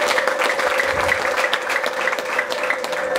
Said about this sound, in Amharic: ጭብጨባ አምጡ ለጌታ።